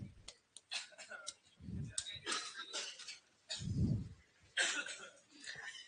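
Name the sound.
coughing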